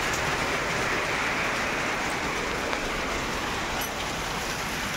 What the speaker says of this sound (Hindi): जोर वर्षा चल देख